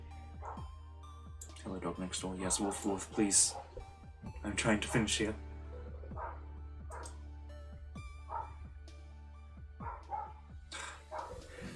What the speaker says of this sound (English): Hello, dog next door.